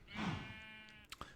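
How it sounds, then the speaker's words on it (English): Minecraft sheep bleating in-game: a drawn-out, wavering bleat fills most of the moment, followed by a couple of short clicks near the end. "And making sheep noises."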